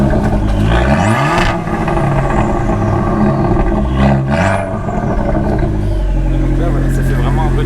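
A Fiat 500 Abarth engine revs in sport mode with a loud, rising and falling growl and a few sharp throttle blips, steady and close, ending in a sustained low rumble.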